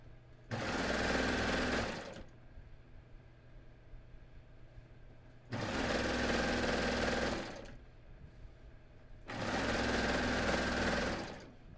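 Sewing machine stitching a seam in cotton lycra fabric, three steady whirring bursts of about one and a half to two seconds each, close and even, separated by quiet pauses.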